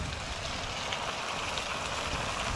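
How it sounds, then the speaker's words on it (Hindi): Heavy rain pours outside while wind blows, a dense, steady hiss of downpour drumming close by without pause and with no voices. "अब बाहर बारिश हो गई है बहुत तगड़ी वाली और हवा चल रही है"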